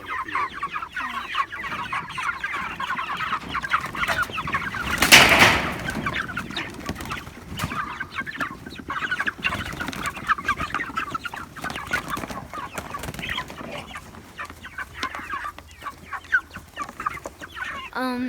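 Many Cornish Cross meat chickens cluck and murmur continuously at close range, a busy, layered chatter of a flock with occasional louder squawks.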